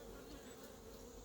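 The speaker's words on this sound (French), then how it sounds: "il y en a beaucoup, on voit qu'il y en a beaucoup des abeilles" Honey bees swarm out of a freshly opened hive box at an apiary, a dense, steady buzzing hum that stays faint but constant for a brief moment with no voices.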